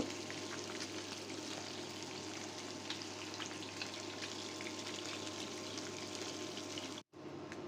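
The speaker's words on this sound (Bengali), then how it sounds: "উল্টিয়ে পাল্টিয়ে মাছগুলো ভেজে নিলাম" Rohu fish pieces frying in hot oil, a steady, close, continuous sizzle with fine crackling that runs unbroken and cuts out abruptly for a moment near the end.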